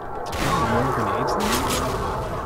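Grenade explosions in the S.T.A.L.K.E.R.: Shadow of Chernobyl video game, heard as a dense, rumbling boom rolling out over a couple of seconds, overlapped by a low processed voice.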